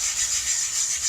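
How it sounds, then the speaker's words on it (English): A sanding sponge scrubs lightly across a painted, stenciled wooden sign, giving a steady close-up hiss of abrasive rubbing that keeps going with no pauses and no talk. "give this a nice light sanding to kind of smooth it out a little bit"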